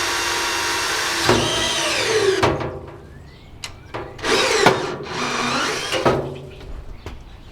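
A power drill bores a hole in a trailer during a build, its motor whining in several bursts that rise and fall in pitch, with short pauses and clicks between the runs, close and fairly loud.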